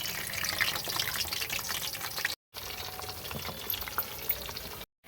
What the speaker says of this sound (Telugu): వంకాయలైతే ముందుగా ఇలా వేపుకోవాలి.